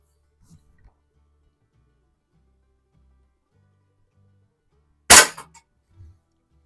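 A single sharp crack from a 1970 Sheridan Blue Streak .20 caliber multi-pump air rifle fired in a garage, close and loud, followed by a brief rattle of the pellet striking a target, with quiet handling noises before and after.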